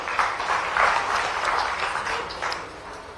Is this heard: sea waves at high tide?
no